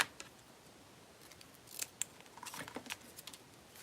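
Scissors snip through paper for a vintage blooms scrapbook, a few quiet close cuts starting sparse and bunching into a quicker run of crisp snips toward the end, with no talk.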